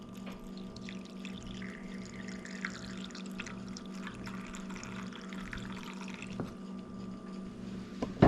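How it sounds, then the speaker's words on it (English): Soapy water is poured and rinsed through the channels of a stuck window, making quiet trickling and dripping with a low steady hum underneath and a sharper splash at the end. "Give both sides a good rinsing of that soapy water."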